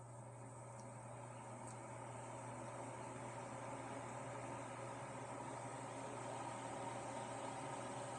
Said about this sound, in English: And turn the hood on again